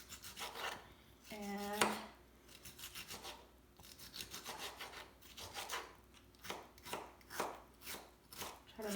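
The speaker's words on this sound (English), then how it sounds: "I'm gonna continue cutting my tomato" A knife chops a tomato finely on a cutting board for guacamole, giving quiet, irregular bursts of short cuts with brief pauses, and a voice speaks faintly in between.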